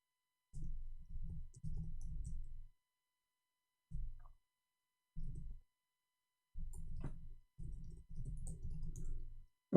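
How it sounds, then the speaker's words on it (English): Keys clicking on a computer keyboard in bursts of rapid typing, separated by short pauses, close and fairly quiet with no speech. "I was typing for him in Arabic"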